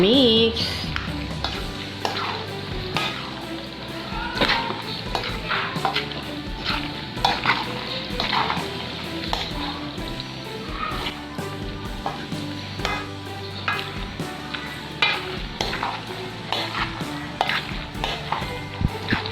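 Macaroni salad mixed in a bowl, with continuous wet squelching and repeated clinks of a utensil against the dish, busy and close throughout, no talk.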